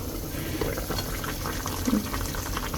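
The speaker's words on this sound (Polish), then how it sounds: "Tutaj gotuje mi się fasola." A pot of beans bubbles at a steady boil, soft gurgles and pops close by with no voices.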